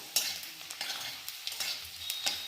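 Chopped garlic fries with khesari greens in a pan: a steady light sizzle, broken by sharp, irregular scrapes and clinks of a stirring spoon, close and moderately loud.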